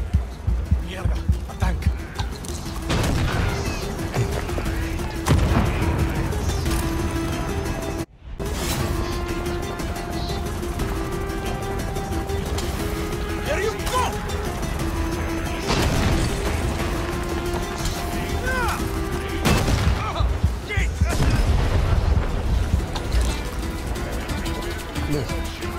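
Heavy booms and rumbling combat noise from a tank battle in the video game Far Cry 6, with dense, continuous blasts and bursts running loud throughout and one brief dropout partway through.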